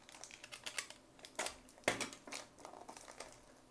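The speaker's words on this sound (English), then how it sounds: "So we are going to use a cutter" A cutter slices through tough plastic packaging of a Dino Strike dinosaur toy set, close crackling and crinkling with irregular sharp snaps of plastic giving way.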